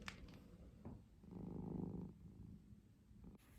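Soft, low purring from a cat close by, swelling into a fuller rumble for about a second before fading, with faint rustles and handling noises around it in a quiet setting.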